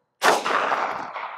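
A single loud, sharp gunshot from a Ruger LCR revolver loaded with 158 grain lead bullets, fired at a bulletproof memory foam pillow, with a long ringing decay after it.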